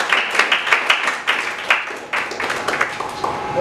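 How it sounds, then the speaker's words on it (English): A room full of people claps for families who volunteer to teach the Quran, at a Ramadan iftar in a CEO's office. Dense, close clapping with uneven surges runs continuously from start to finish. "So can you give a big clap to this?"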